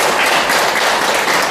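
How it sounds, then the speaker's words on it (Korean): Audience applause, a loud, dense burst of many hands clapping together, steady and close for a moment with no talking. "박수 좀 부탁드립니다."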